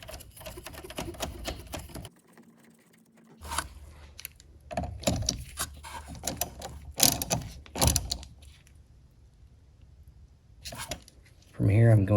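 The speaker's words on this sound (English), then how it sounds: "secure it with the 10mm nut" Ratchet wrench tightening a 10mm nut on a Chrysler Pacifica auxiliary battery cable, quick bursts of clicking pawl strokes separated by pauses, close and fairly quiet, with a person talking at times.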